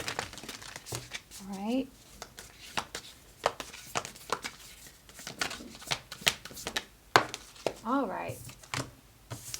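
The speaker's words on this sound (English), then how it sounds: "Let's give it another shuffle" Tarot cards are shuffled by hand in quick papery riffles and soft slaps that continue in bursts throughout, close and crisp, while a person speaks briefly over them.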